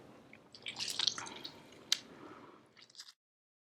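Citrus juice dripping and squishing from hand-squeezed pulp, wet close-up drips and squelches in a quiet kitchen with a few sharp splats, fading out after about three seconds.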